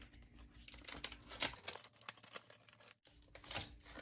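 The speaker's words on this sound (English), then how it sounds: "I got scissors." Quiet crinkling and snipping of packaging with scissors in a kitchen while making ramen, soft irregular rustles and small cuts close by, no talking.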